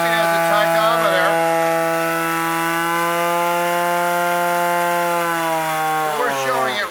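An Indco air-operated, high-speed laboratory dispersion mixer runs at about 2,500 RPM, giving a loud, steady, close-up tonal whine. Near the end the pitch sags and wobbles.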